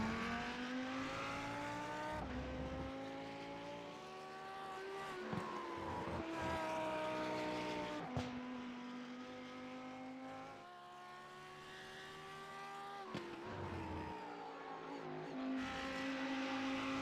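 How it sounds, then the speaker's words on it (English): A Lamborghini GT car's engine in iRacing at the Circuit of the Americas, repeatedly revving up through the gears with sharp shifts and popping overrun on lift-off, loud and continuous throughout the lap. "Love the sound of that Lamborghini."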